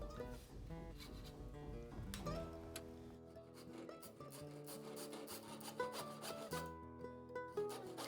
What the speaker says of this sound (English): I'm using a handsaw here to make a kerf or a cut in the top of the leg.